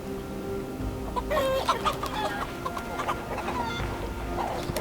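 Chickens cluck and squawk in a farmyard in Assassin's Creed Valhalla, several short irregular calls over a low background hum, close and moderately loud.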